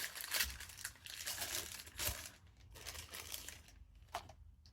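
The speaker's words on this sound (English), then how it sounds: "These bags are not easy to open without ripping them." A small plastic packet holding a knitting stitch marker crinkles and crackles up close as it is pulled and torn open, quiet irregular rustling with a few sharper snaps.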